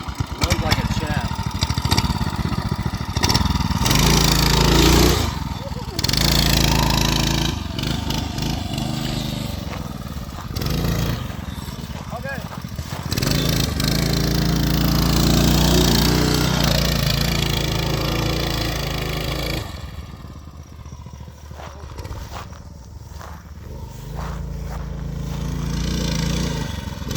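A Coleman mini bike's small engine, fitted with a torque converter, runs and revs nearby, with buzzing rises and falls in pitch and a quieter idle stretch, while people talk over it.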